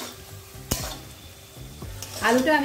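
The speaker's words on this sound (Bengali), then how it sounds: "এই হলুদ লবণটা দিয়ে আলুটাকে ভালো করে একটু ভেজে নেব।" Potatoes fry in a pan with salt and turmeric, giving a steady sizzle under sharp scraping stirs from a utensil. The frying is near and moderately loud and swells toward the end. No one speaks.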